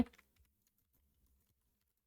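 A quick cluster of close computer keyboard keystrokes opens, then a few faint, sparse taps follow in near silence with no voices.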